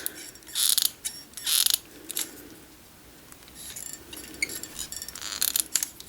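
Pliers nipping the corners off corset boning, a series of short, sharp metallic clicks and snips in a few bursts, close and fairly loud with quiet gaps between.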